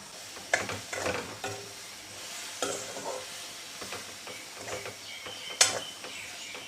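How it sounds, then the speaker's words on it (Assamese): Taro chutney mixture being stirred in a pan, a soft scraping and faint sizzle with irregular strokes of the spoon, fairly quiet, no voices. "আকৌ লৰাই লওঁ।"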